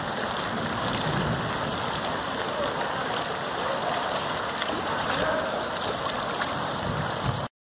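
Water rushes through the Crato canal at night after heavy rain in the hills, a loud, steady roaring flow heard from nearby, with no voices over it.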